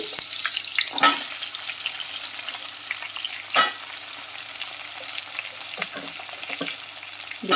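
Onions and green chillies fry in oil with tempering spices, giving a continuous hiss, with occasional louder stirring scrapes and bursts of spatter.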